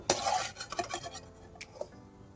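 Dry coconut pieces are stirred as they fry in a pan, a quiet spell of a few close scraping clinks from a utensil against the pan that fades toward the end.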